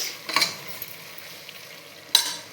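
Masala is stirred into a frying turmeric mixture, with a soft continuous sizzle and two sharp spoon scrapes against the pan, one near the start and one near the end.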